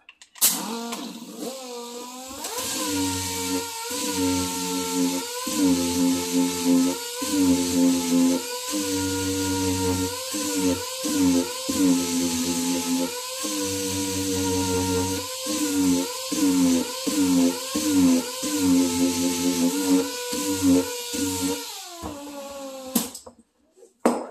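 An MDF door is sanded with a power sander fitted with a stiff, flat hard pad. The motor gives a close, steady whine that dips and rises with pressure for about twenty seconds, then winds down at the end.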